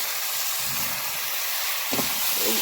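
Potatoes added to a hot pan while cooking chicken kosha, a loud, steady broadband sizzle and hiss, with a brief clatter of pieces dropping in near the end.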